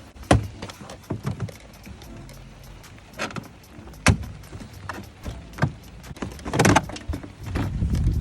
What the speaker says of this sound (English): I'm just going to take off the inner back panel on the car